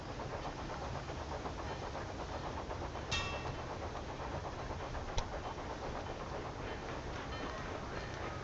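A train runs on tracks in the rail-building game Railway Empire 2, a steady, continuous rumble with faint clanks, heard alone at moderate loudness throughout.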